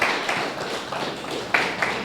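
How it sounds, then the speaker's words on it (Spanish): Steady applause from a church congregation giving praise to the Lord, a dense wash of clapping that carries on with only slight swells for the full length and no clear voice above it. "Denle un aplauso al Señor y póngase de pie"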